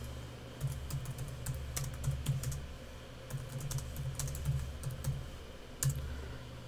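Fingers tap out text on a computer keyboard in quick, uneven bursts of soft clicks, with a few sharper key strikes and a low steady hum underneath.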